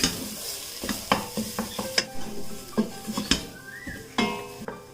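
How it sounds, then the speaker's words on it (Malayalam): Spices with dry mango powder are sautéed in a pan, giving a steady sizzle broken by sharp, irregular scrapes and clinks of a spoon stirring against the metal, with no talking. "അപ്പോൾ ഇത് നമുക്കെല്ലാം കൂട്ടിയിട്ടൊന്ന് വഴറ്റി കൊടുക്കാം"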